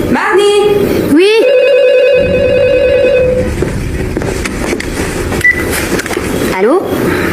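Telephone ringing in a horror movie scene: a loud electronic ring tone repeating in bursts, heard close over constant background noise, with a voice speaking in between.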